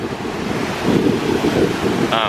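Ocean waves around a resort in Cancun, Mexico, heard as a loud, continuous surf roar mixed with heavy wind buffeting the microphone, with no talk.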